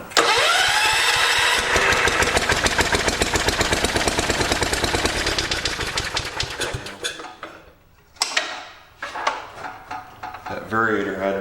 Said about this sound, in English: we're gonna have to start the engine up so that we can get it to work how I want it